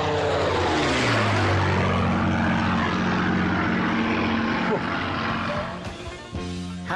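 A Supermarine Spitfire flying past, its piston engine droning loudly with a shifting Doppler pitch as it sweeps by, then tailing off at the end.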